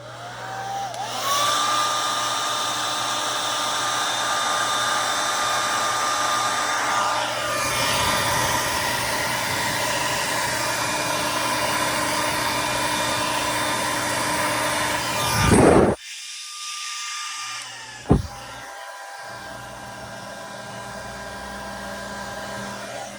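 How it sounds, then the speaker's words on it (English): A hair dryer blows steadily and loudly for about fifteen seconds, drying a freshly washed small part (the rotating hook) from a Singer 431G sewing machine. It then cuts off abruptly, leaving near silence with a brief click. "And now I'm going to dry it with the hairdryer."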